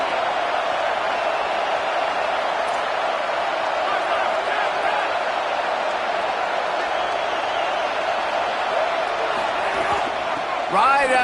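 A college football stadium crowd roars steadily for the defense in the red zone, a dense continuous wall of cheering that holds level throughout, with a commentator talking over it.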